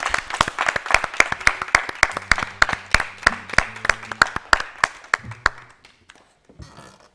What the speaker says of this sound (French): Pour votre plaisir, on l'applaudit.